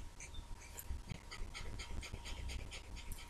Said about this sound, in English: This is my other dog.